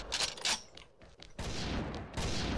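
Gunfire in the video game XSHOT comes as loud, rapid bursts of shots with brief gaps between volleys; no voices.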